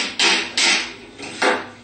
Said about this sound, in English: Also, you can tap on with a hammer